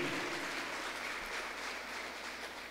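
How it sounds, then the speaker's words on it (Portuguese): A church congregation claps for people who recently gave their lives to Jesus, producing a faint, even wash of applause that holds steady throughout. "Uma salva de palmas para essas pessoas"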